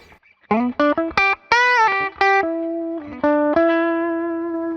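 Electric guitar on its humbucker pickup through a clean amp with slight breakup, several quick picked notes followed by held, ringing double-stop chords, loud and close with no talking.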